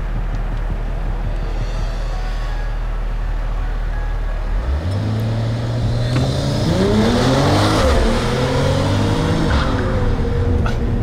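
A Mercedes-AMG (CLS 53 or E 53 Cabriolet) accelerates hard on a race track during lap timing: a loud engine drone climbs steadily in pitch through the gears, heard from inside or close by with no talking.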